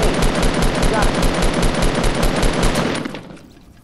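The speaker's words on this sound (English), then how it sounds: "he's shooting at me" Rapid automatic gunfire in a video game firefight: a dense, loud, continuous burst of evenly spaced shots for about three seconds, then cutting off abruptly into quiet.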